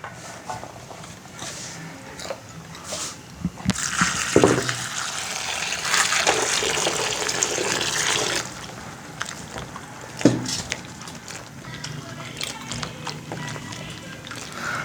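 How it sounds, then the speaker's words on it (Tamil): Chopped bottle gourd pieces being washed in water inside a cooking pot, with splashing and sloshing for several seconds in the middle, set among quieter handling noises and no talk. "இதை நாங்கள் இந்த சட்டிக்குள்ளே போட்டு கழுவ போகிறோம்"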